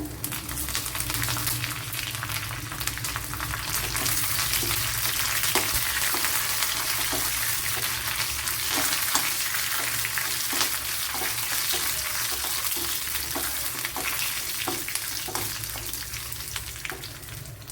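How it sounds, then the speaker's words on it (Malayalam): Curry leaves hiss and crackle loudly in hot oil in a pan alongside dried red chillies for a Kerala-style pineapple pachadi, a dense, continuous sizzle with scattered pops close by. "ഇനി കറി ലീവ്സ് ഇട്ട് കൊടുക്കാം."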